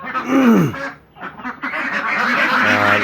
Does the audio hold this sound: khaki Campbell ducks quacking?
yes